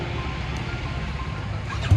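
A BMW G310R single-cylinder motorcycle idles with its exhaust removed, giving a raw, steady, close-up rumble with a rapid throbbing pulse and no talking.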